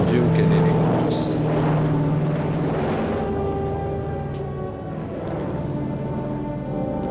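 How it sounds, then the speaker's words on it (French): A Lockheed Super Constellation, original 749 model, runs its four big Wright piston engines at an air show: a steady droning hum with layered tones and a faint rise and fall throughout. "Quatre gros moteurs Wright"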